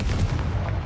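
A Confringo blasting spell in Hogwarts Legacy, a short dense boom that rumbles loudly and evenly through a fraction of a second.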